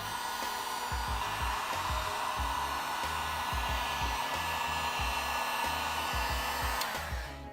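A heat gun blows steadily and close while heating the plastic of a Ferrari 488 GTB headlight, a constant airy roar with faint low rhythmic thumps beneath and a slight fade at the end.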